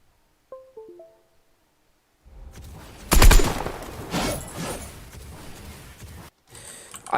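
Gunfire in Fortnite: after a few short tonal game blips, a loud burst of rapid shots erupts, followed by sustained crackling fire that fades, cuts out, then resumes briefly.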